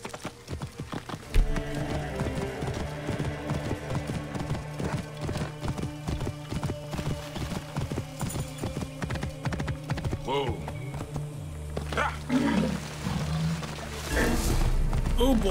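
Rapid, rhythmic hoofbeats of a galloping horse in Assassin's Creed Origins pound steadily, with an occasional whinny and snorting, plus game sound effects and a rumble near the end.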